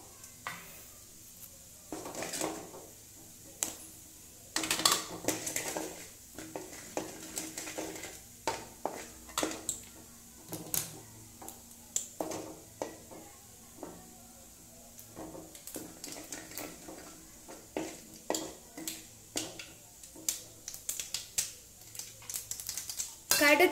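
Mustard seeds and urad dal crackle and pop in hot oil in a pan while making poori masala, a steady run of small sharp bursts, close and fairly loud, with clusters of spluttering throughout.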